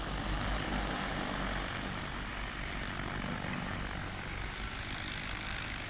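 An AUAV A70 agricultural spreading drone flies over a field, its propellers producing a steady, loud, broadband whirring buzz that stays constant with no talking.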